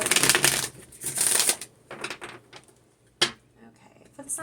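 Oracle cards are shuffled by hand in several papery, riffling bursts of uneven length, close and fairly quiet, with a sharp snap near the end.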